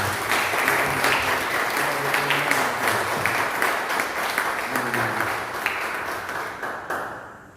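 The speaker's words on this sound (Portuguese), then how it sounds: "Aplauda bem forte a palavra de Deus." A church congregation applauds strongly, a dense wash of clapping that fills the whole stretch before fading slightly at the end, with faint voices underneath.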